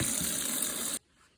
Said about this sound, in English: I'm gonna shock them in cold water to stop that cooking process.